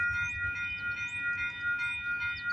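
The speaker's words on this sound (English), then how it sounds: "we got a CPKC northbound train coming down the line" A CPKC northbound freight train passing on a rainy morning, a steady horn-like tonal drone held over a low rumble throughout, with no talk.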